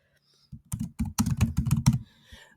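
A computer keyboard is typed on in a quick burst of close, clicky keystrokes lasting about a second and a half, then it goes quiet.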